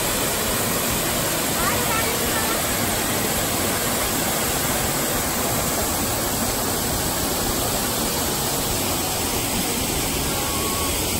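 A waterfall in Oudomxay, Laos, pours with a constant, heavy rushing roar that fills the whole stretch at close range, broad and unbroken from start to finish.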